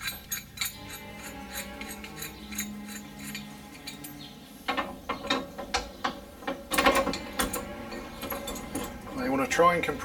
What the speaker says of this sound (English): You want to try and compress as much of the spring as you can.